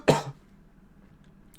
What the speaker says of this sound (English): Apologies if you caught some of my cough there.